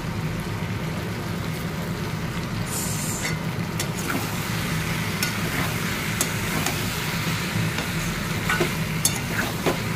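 Spice paste for a Bengali dish being sautéed in a pan, a continuous low sizzle and scraping stir that runs throughout, with occasional clinks of the spoon against the pan.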